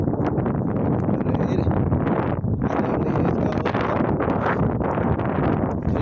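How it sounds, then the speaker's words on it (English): Heavy wind buffeting a microphone outdoors on a cold, overcast day, a loud continuous rumbling roar with gusty surges and no clear speech. "It is windy, so pardon me if the wind makes a big difference."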